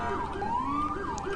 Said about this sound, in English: So obviously you can use the manual siren and then the horn